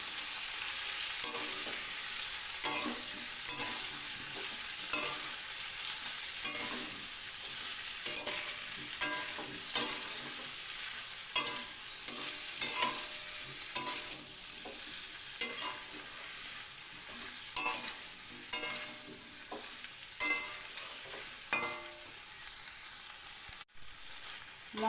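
Mixed vegetables with green chilies and spices stir-fried in a pan for a Bengali vegetable chhokka, with steady sizzling broken by frequent scraping strokes of a spatula, close and alone, without talk.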